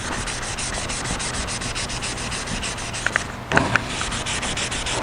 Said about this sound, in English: Just sanded that right out.